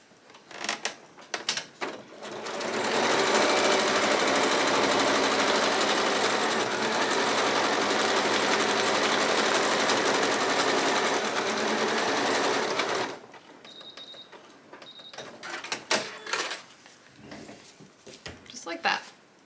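A sewing machine stitches a paper-pieced quilt block along the marked line, a steady loud whirring run of about ten seconds, with speech before and after the stitching.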